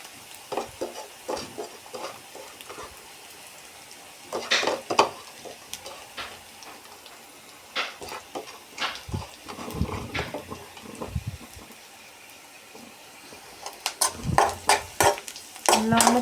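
Spoon stirring a coconut mixture in a pan, giving irregular scraping and clinking bursts against the metal with a faint sizzle underneath, no talking.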